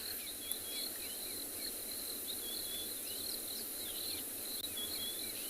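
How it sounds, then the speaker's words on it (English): Constant high insect chirring fills the air at sunset on a safari, steady and moderately loud, with faint bird chirps scattered through it outdoors. "there's far more insects that are starting to fly around. I can hear a few buzzing around my head"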